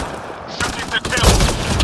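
Gunfire in the video game Mass Effect: Andromeda, a close, loud burst of rapid shots filling under two seconds, with a voice shouting over it.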